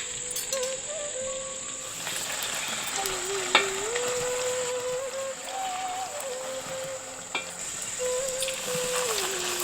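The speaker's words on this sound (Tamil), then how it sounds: "இப்ப தேய்ச்சி வச்சிருந்த மாவை பூரியா சுட்டு எடுத்துக்கலாம்." Puris of rolled dough fry in hot oil for pani puri. The oil gives a steady, dense crackling sizzle throughout, with a few sharper pops and a faint whining tone running over it.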